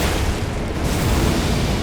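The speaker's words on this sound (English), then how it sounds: "the explosion is undodgeable" In the Elden Ring DLC, a boss's explosion attack erupts as a loud, dense, sustained roaring blast that fills the whole moment with booming rumble and crackling debris, with no voices over it.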